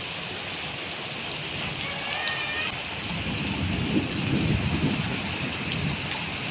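Heavy summer rain pours steadily on a sloped spot where runoff rushes downhill, while deep thunder rumbles in the middle and later part. The downpour is loud and continuous, with no voices.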